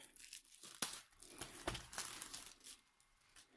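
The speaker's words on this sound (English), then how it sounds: "So we'll be crinkling, crinkling, crinkling." Plastic packaging on Amazon diamond painting kits crinkles close up in a soft, irregular rustle with a few sharper crackles, quiet and alone for under four seconds.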